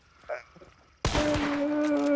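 Gunfire in the game Hunt: Showdown: after faint murmurs, a loud burst of shots erupts at once and carries on as a dense, sustained volley with a ringing tone beneath it, close and strong to the end.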